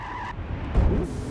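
A car skids after a handbrake turn in Gran Turismo 5, a short close screech of tyres that gives way to a low rumble, with no voices over it.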